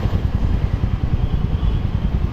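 A motorcycle riding on the road on the way to the office, heard close from the bike itself: a loud, steady engine drone with rapid rhythmic low pulses and constant wind and road noise.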